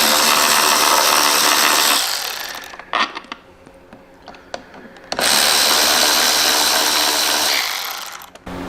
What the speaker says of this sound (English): Get you a Torx 27 and get these removed on both sides of the bike.